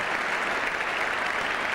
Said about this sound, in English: So the applause around the ground also for this 100 partnership